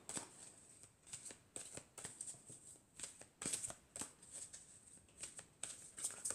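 Oracle cards shuffled by hand in a steady series of short riffling bursts, close and fairly soft, with no voices.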